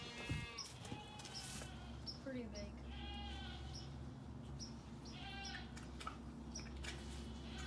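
Goats bleating repeatedly on a farm near a big pig feed bin, several harmonic calls rising over a steady low hum, with people talking close by.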